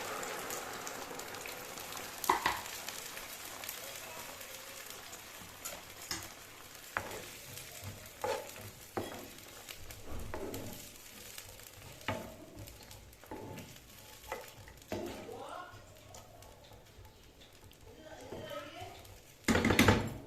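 Chickpeas sizzling and frying with onions in a pan, a steady crackling hiss with scattered sharper pops throughout and a louder burst near the end.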